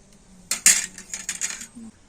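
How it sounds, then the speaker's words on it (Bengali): A metal ladle clinks and scrapes against a pot while fried lentil balls are stirred in warm sugar syrup, a few sharp bright knocks in a short burst, close and clear. "আমি একটু হাতা দিয়ে এইভাবে নাড়িয়ে চাড়িয়ে দিচ্ছি"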